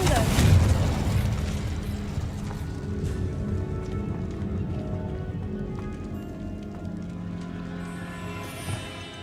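A Confringo spell explosion in Hogwarts Legacy bursts loudly at the start with a deep boom, then fades into a rumbling tail with scattered crackles, tonal magical hums and debris patter slowly dying away.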